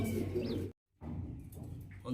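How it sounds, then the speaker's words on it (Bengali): Pigeons in a breeding loft give low, soft coos over steady flock noise; the sound drops out briefly, then the cooing resumes. "এতগুলো কবুতর তাও বিডিং করতেছে ওরা"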